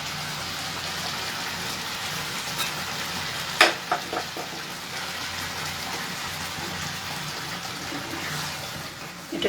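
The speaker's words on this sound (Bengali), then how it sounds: "এটাকে বেশ করে নেড়ে নিলাম।" Kofta curry sizzles steadily in a frying pan, a continuous close frying hiss, with a few sharp clinks and scrapes of a spoon stirring the pan partway through.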